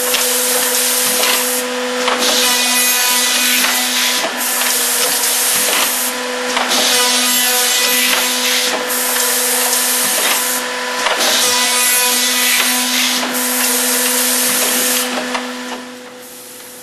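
Pillar CXT woodworking machine cutting wood, a steady loud mechanical whir with a constant tonal hum and broadband cutting noise that swells in repeating passes about every two seconds, running alone throughout.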